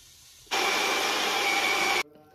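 A blender roars loud and steady for about a second and a half, whirring green apple, spinach, cucumber and water into juice, then cuts off abruptly into quiet.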